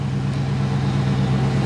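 A Dodge Charger Scat Pack, a 300 build, idles just after starting, a steady low throbbing engine rumble close by, continuous and fairly loud with no one speaking.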